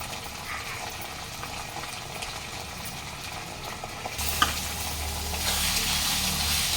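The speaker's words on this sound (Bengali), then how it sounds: "মশলাটা ভালো করে কষিয়ে নেব।" Ground chilli, salt and turmeric fry and are stirred in a pan for an egg, potato and cauliflower curry, giving a steady close sizzle with scraping stirs that swells louder near the end.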